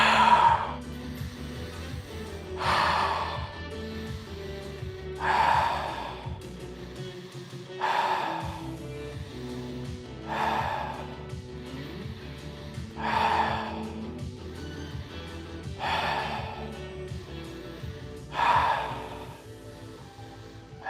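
Rhythmic breathing from a person doing a cross-connect stretch, elbow reaching toward the knee, with about eight slow, evenly spaced breaths over a steady hum of background music.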